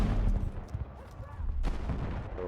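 Pistol shots fire in a video game, sharp cracks arriving in a few separate bursts over a busy, noisy game background.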